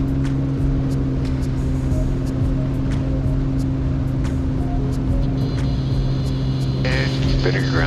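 A small airplane engine runs at full power on a soft-field landing approach, a loud steady drone with a low throbbing hum throughout, under brief faint talk.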